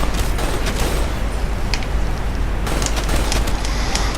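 Dense, loud video game gunfire and weapon handling in Call of Duty zombies mode, a continuous roar of shots with brief metallic reload clicks layered in, no speech.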